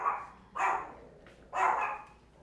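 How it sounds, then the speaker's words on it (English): Two sharp dog barks about a second apart, moderately close, with quiet pauses between and no talking. "So the barking kind of picked up"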